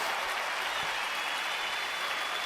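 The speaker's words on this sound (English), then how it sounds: "So let me give a round of applause" A round of applause comes through during a livestream as a steady, even wash of clapping at moderate level, with no gaps for the whole short stretch.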